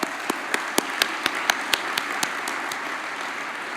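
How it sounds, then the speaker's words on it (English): An audience at the 2017 Murrieta State of the City event gives the Chamber of Commerce a round of applause, steady moderate crowd clapping with a few sharper individual claps standing out. "They deserve a round of applause."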